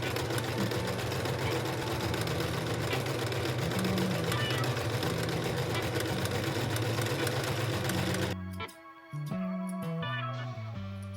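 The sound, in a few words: sewing machine sewing buttonholes on a chore coat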